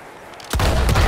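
A gunshot in the video game Red Dead Redemption II goes off as a loud, booming blast halfway through. A second crack follows shortly after, while the preceding moment is quiet.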